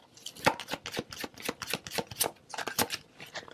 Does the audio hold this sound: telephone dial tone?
no